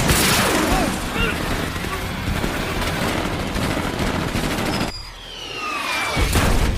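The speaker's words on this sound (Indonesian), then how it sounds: "Dengan sigap, Machete mengambilnya dan menembak tabung nos di kursi rodanya" Gunfire and explosive blasts from the action film Machete Kills ring out as dense, rapid bursts of shots and booms, loud and chaotic, then drop away briefly before another burst, with a voice briefly heard amid the mayhem.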